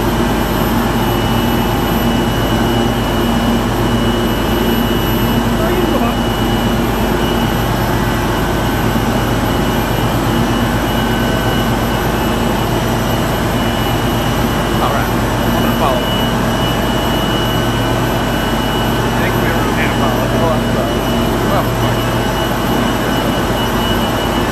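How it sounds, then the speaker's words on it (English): Turbine number 3 at an S&WB power plant runs close by with a loud, steady industrial roar and droning tonal hum that holds unbroken for the whole stretch, with a few faint clanks above it. "Turbine number 3."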